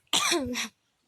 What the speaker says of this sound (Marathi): मला आधीच खोकला येतोय